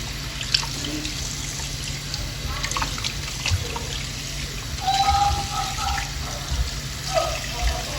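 Tap water running and trickling while raw turkey wings are rinsed in a kitchen sink, a steady close splashing with small drips and clinks, while someone talks now and then.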